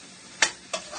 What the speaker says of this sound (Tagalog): Halo-haloin lang para ma-incorporate lahat yung nilagay natin na spice.